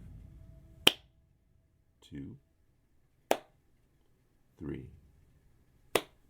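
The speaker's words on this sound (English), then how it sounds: "Followed by clapping our hands 3 times." Three sharp, single hand claps spaced a few seconds apart in a quiet room, each crisp and isolated, with a calm voice counting in the gaps between them.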